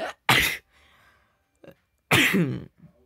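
Two explosive sneezes, close and loud, separated by a short pause with a faint sniff and breathing between them.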